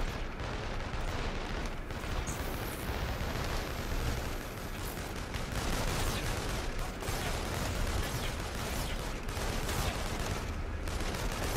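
Dense, continuous gunfire and explosive bursts from a shooting sequence in Infamous: Second Son on PS5, loud and sustained throughout with no pauses, several shots layered on top of one another.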